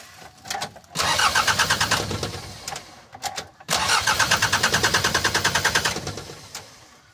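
A Mitsubishi L300 with a 4D56 diesel engine cranks repeatedly but never catches, giving two long bursts of rhythmic starter churning separated by a short pause. The sound is loud and close, with no voices.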